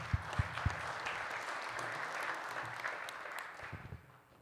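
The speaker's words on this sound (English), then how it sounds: "let's give one more round of applause." A conference audience at the GNU Radio Conference 2025 gives a round of applause. It is a steady, soft wash of clapping heard from a distance, with a few louder thumps near the start and end.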